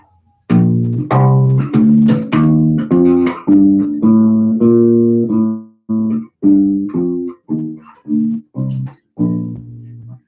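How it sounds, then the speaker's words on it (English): A bass plays a major scale up and back down, about a dozen separate notes, each plucked clearly and held roughly half a second with short gaps between them. The notes are close and distinct, with no talking. "So a regular scale, major scale sounds like this."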